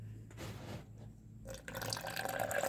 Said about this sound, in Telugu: దాంట్లోకి దానికి సరిపడా పాలు పోసుకుందాం.